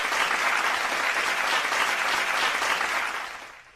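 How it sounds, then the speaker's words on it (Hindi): Steady, loud audience applause for a guest at a Box FM conversation event, a dense wash of many hands clapping that holds evenly and then fades out at the end. "एक बार फिर से जोरदार तालियां बनती हैं इनके लिए।"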